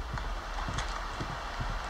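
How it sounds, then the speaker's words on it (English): Footsteps in the Roblox ghost-hunting game Specter, a series of soft thumping steps in a steady rhythm over a constant low hum and hiss, fairly faint and not far off. "I just heard footsteps."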